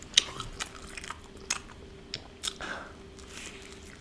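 Close, quiet bites and chewing of Little Caesars pepperoni pizza, with several crisp crunches and soft wet mouth sounds spread unevenly over a few seconds, no talking.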